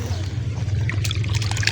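Thin water trickles from a supply pipe under low pressure, a soft uneven dribble and splash close by, with a voice talking over it in places.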